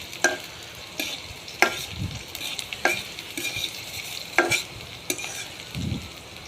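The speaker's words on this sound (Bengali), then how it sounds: "পেঁয়াজগুলো একটু নাড়াচাড়া করে ভালো করে ভেজে নিতে হবে।" Onions being stirred and fried in a pan for a dried fish curry, with a steady sizzle beneath regular sharp scrapes and clicks of the spoon against the pan, close and without talk.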